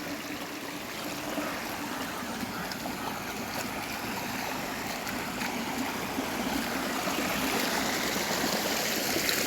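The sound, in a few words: water flowing in a stream after rain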